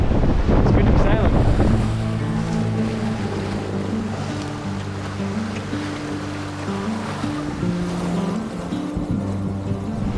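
A sailboat under sail alone, engine off, moving quickly across open ocean, with steady wind rushing over the microphone and waves washing against the hull, a low tonal hum running beneath throughout.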